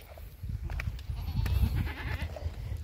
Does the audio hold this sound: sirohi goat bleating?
yes